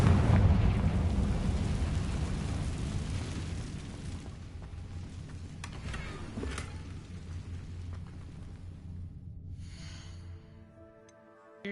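A Confringo blasting curse goes off in the video game Hogwarts Legacy: a heavy, rumbling explosion booms at the start, then fades into a long crackling, debris-filled tail before cutting off into near silence.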